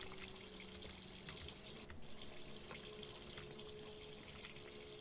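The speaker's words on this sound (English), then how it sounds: "The sink." A sink tap in the Roblox game runs steadily, a constant rushing stream of water with a faint tonal hum, unbroken throughout and with no voices.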